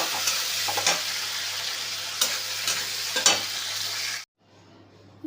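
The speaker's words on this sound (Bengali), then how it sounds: "এবার কড়াইতে তেল দিয়ে দেবো চিংড়ি মাছটাকে ভালো করে ভেজে নেব" Shrimp frying in a wok of hot oil, a steady loud sizzle with a few scraping stirs, cutting off abruptly near the end to near silence.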